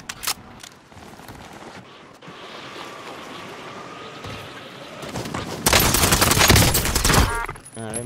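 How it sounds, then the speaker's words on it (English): Gunfire in a video game: rapid bursts of shots over a rushing, wind-like background, with the firing growing dense and loud toward the end. "Man, I'm under fire."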